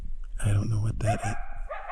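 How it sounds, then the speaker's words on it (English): An animal barks close to a tent at night in a mountain camp beside a backcountry bike route, a few loud, near barks and yelps in a short burst, with a person speaking around them. "It's pretty close to my tent. It just started barking."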